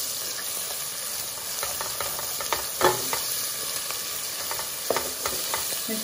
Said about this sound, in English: The spices are frying.